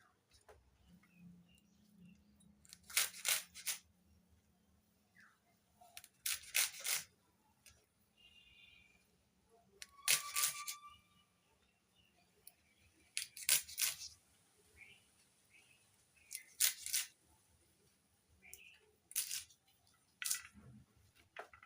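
Calotropis leaves and datura fruit, freshly washed in turmeric water, are cut in a quiet room: sharp crisp chops at irregular intervals, about ten strokes, with faint handling noises between them.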